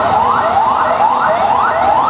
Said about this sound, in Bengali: অ্যাম্বুলেন্স যেটি রয়েছে এই মুহূর্তে বাড়েন হাসপাতাল থেকে বেরিয়ে আসছে